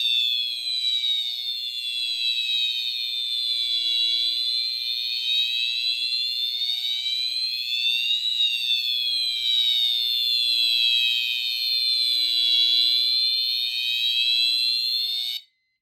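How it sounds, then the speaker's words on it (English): A Fire-Lite MS-5UD fire alarm system sounds during a test, a loud, steady, piercing electronic tone with a slow warbling sweep that runs continuously for about fifteen seconds before cutting off abruptly, with no talk. "And the alarm is silenced."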